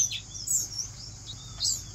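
Small aviary birds, Gouldian finches, parrot finches and scarlet-chested grass parrots, chirp in quick high tweets and short calls over a low steady hum, fairly close and clear.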